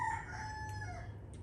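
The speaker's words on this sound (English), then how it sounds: "chickens that are always crowing in my videos." A rooster crowing at a Nigerian family home, heard as a single drawn-out crow at moderate distance over steady background hum, with no talk.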